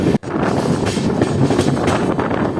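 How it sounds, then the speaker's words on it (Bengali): The Kanchanjunga Express, an LHB train, pulls out of Ahmedpur Junction, a loud close rumble with rattling carriage noise and wind buffeting, steady after a brief dropout near the start. "আমাদের ট্রেন এখন ছাড়ছে"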